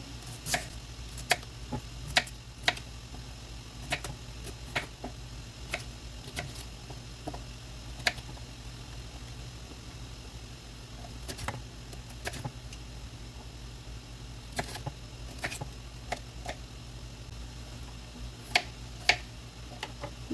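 Raasavalli yam (taro) is cut into small pieces with a knife: sharp, scattered knocks on a board, about a dozen spread irregularly over a low steady background hum, with no talking.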